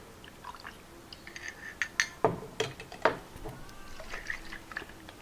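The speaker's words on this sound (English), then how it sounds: "Add a little bit of the brine from the garlic jar." Garlic pickle brine poured into a glass for a vodka drink, with a few soft liquid splashes and light clinks of glass and jar, fairly quiet and close, no speech.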